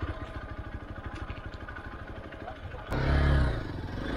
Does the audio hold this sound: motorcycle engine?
yes